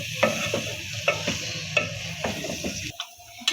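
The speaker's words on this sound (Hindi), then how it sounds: "शामिल कर देंगे 1 चम्मच गरम मसाला और अच्छे से मिक्स कर लेंगे" A spoon stirs aloo matar gajar curry with garam masala in a pot, scraping in repeated strokes over a low sizzle, close and fairly loud with no talking.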